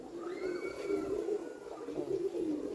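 A racing pigeon coos in low, soft, rolling calls that repeat steadily at close range, with faint chirps from other birds in the background.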